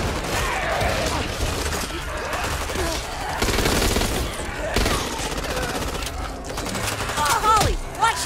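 Automatic weapon fire in the zombie shooter Back 4 Blood clatters in sustained bursts amid crashes and chaotic action, loud and close, with characters shouting briefly over the shooting.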